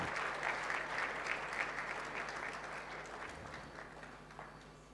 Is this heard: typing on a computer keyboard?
no